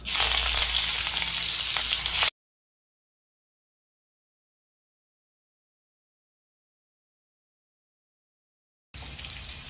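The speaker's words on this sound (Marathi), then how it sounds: "तेल गरम झालेलं आहे आता आपण जिरं टाकून घेऊया फोडणीसाठी" Cumin and bitter gourd sizzle loudly and steadily as they fry in oil, then cuts to a long stretch of silence before the frying hiss returns.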